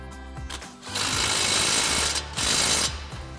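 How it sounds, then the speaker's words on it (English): An impact wrench with a 24mm socket tightening strut bolts on a 2016-2024 Camaro during a lowering spring install, two long rattling hammering bursts separated by short pauses, close and loud with faint mechanical noise between. "Now we'll grab our 21mm wrench and our 24mm socket on our impact and tighten these down."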